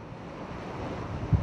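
High sea waves surge around anchored hospital ship 531, a steady broad wash of surf and wind noise with a soft low thump near the end, no voices.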